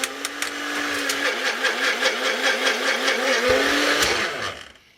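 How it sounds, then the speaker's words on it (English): Rocket Blender grinding potassium nitrate for black powder rocket motors, a loud continuous motor whir with a pulsing, warbling grind that holds steady and then spins down at the end. "I'll run it on the rocket blender for about a couple minutes"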